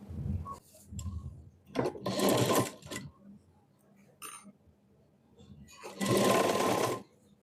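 A sewing machine stitches a cut-work blouse in short bursts of rapid whirring, with two longer, louder runs separated by quiet pauses and faint handling sounds.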